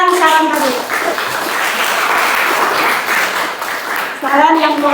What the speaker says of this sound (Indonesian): kita beri aplaus untuk yang memberikan saran tadi